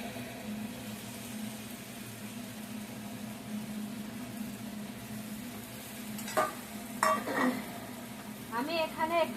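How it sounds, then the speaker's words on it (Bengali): Fish and water go into a wok of spices frying in oil, with steady sizzling that turns into louder bursts of spattering and stirring clatter near the end. "এবার মাছটা আমি কড়াইতে দিয়ে জলটা দিয়ে দেবো পরিমাণ মতো"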